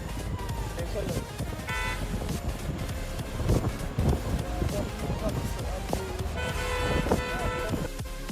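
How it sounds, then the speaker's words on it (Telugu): A car horn honks twice, a short toot then a longer blast, over heavy wind buffeting and passing road noise. "ఒక కార్ రోడ్ హార్న్ కొట్టుకుంటూ పోయింది కదా"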